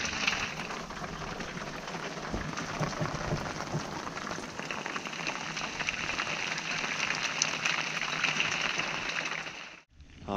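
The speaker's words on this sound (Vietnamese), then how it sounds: "vẫn đang mưa rất là to các bạn." Heavy rain falls steadily on a banana tree boat on a river in cold weather, a dense continuous patter close around, with no one speaking over it until a brief dip at the end.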